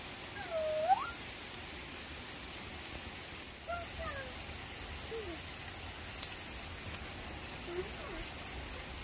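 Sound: rain falling outdoors

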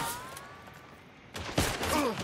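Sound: gunfire in the video game Hunt: Showdown

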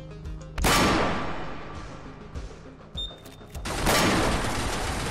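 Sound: gunfire, kill shot

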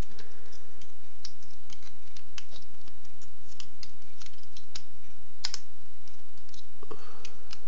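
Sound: plastic Transformers Prime Megatron figure being folded, transformed

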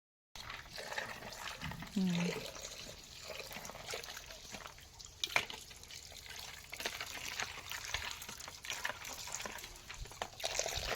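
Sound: washing bombil (Bombay duck) fish in clean water

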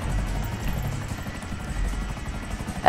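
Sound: stealth helicopter flying in video game GTA 5

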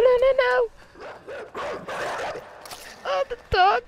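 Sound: dog barking and attacking in the video game Inside

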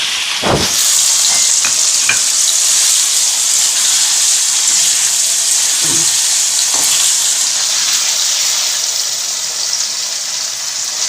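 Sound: paneer frying in hot oil in a wok

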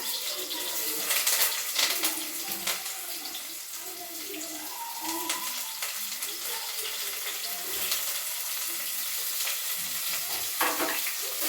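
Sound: onion pieces, green chillies and curry leaves frying in oil

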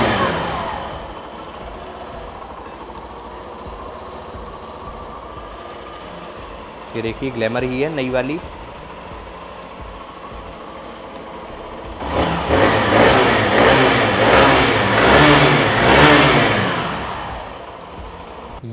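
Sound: Hero Glamour Xtec 2023 motorcycle engine idling and exhaust revving

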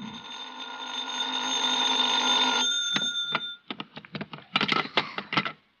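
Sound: telephone ringing, radio drama sound effect

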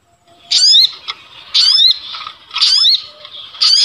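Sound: recorded bird calls for bird luring

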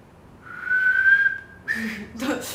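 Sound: person whistling

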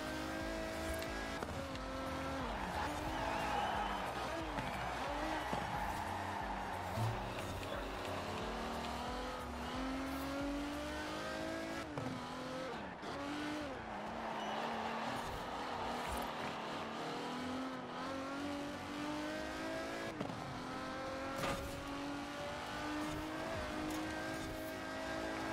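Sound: car cornering slowly in the video game Forza Horizon 4

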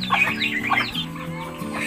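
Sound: Rhode Island Red roosters clucking

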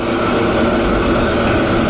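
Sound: passing train in San Francisco

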